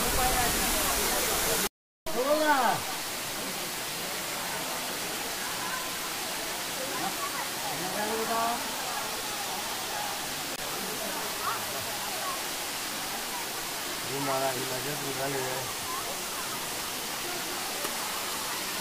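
Talakona waterfall, where friends on a trip sit near the falls, roars as a steady broadband rush throughout, with a brief dropout near the start and voices talking over it at times.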